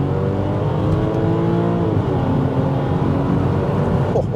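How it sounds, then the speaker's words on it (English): A Porsche 911 996 Carrera 2 with Tiptronic transmission accelerating with early upshifts, its engine droning loud and steady from inside the car, rising in pitch through a gear before a shift near the end. "I short shifted the Tiptronic."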